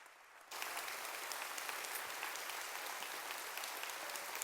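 A congregation applauds to welcome pastor Patrick to the stage at a Sunday church service, a sustained, dense crowd clapping that starts abruptly after a quiet moment and holds steady throughout.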